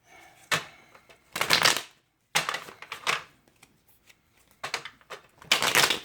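Tarot cards riffle and shuffle in several sharp, papery bursts, close by, with short silent pauses between each flurry.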